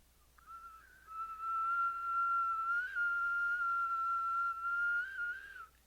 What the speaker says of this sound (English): we whistle and inhale